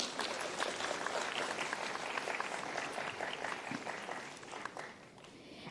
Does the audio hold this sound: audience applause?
yes